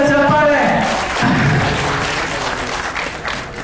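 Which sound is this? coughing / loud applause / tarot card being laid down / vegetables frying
loud applause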